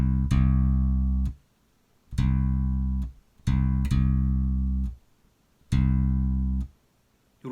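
Electric bass played to an 8-beat rhythm with the left hand resting lightly on the strings, giving five full, sustained low notes in a steady pattern, each cut off sharply by the mute with short silent gaps between.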